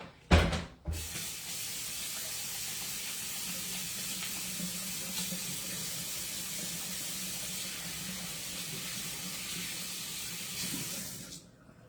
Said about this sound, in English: I got to wash my hands